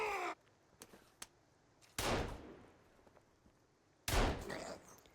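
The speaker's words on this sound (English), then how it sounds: "In this clip you can see me spamming the gun and how fast their fear goes up." Gunfire in the survival game Sons of the Forest: two loud, sharp shots about two seconds apart, each with a short decaying tail, plus a brief burst at the start and faint clicks in between.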